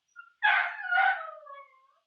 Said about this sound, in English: pardon my dog, he's freaking right now.